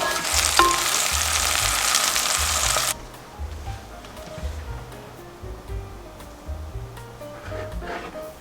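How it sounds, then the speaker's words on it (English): Longanisa sausages hit hot oil in a pan with a loud, dense sizzle for about three seconds. The frying then settles to a much quieter crackle with soft clinks and movement, and no speech. "Add some oil in, and I'm going to fry the longanisas a little bit."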